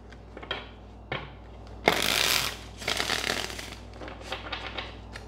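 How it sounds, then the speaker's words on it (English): Brisk riffling and slapping of a tarot card deck, a few short taps followed by a louder, longer shuffle burst, close and alone. "One more shuffle."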